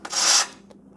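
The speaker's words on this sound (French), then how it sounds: "ce que je vais faire, c'est donc poncer tout ça pour éviter le sparadrap" Sandpaper rubbing across the edge of a homemade low-tech aquarium lid, one close, loud scraping stroke lasting under half a second, then a faint brief scrape after it, with no voices.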